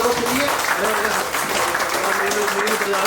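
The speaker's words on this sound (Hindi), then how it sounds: "यदि प्रोजेक्ट अच्छा हो तो तालियां होना चाहिए सब लोगों के लिए" A hall audience at a meeting breaks into sustained applause, many hands clapping steadily for about three seconds with a faint voice murmuring underneath.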